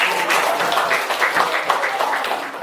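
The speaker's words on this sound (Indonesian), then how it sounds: "tepuk tangan" A school audience at a national-level event claps in a dense, lively burst, steady and close, with some voices mixed into the clapping.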